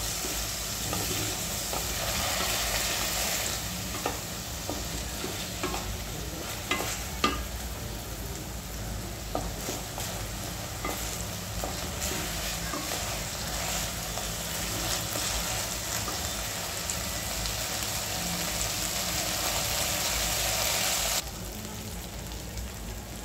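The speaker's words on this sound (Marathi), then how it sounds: "तांदूळ छानपैकी तुपामध्ये परतून घ्यायचं आहे।" Rice being stirred and roasted in ghee for kheer makes a steady, close frying sizzle, broken by scattered scraping stirs, with no talk.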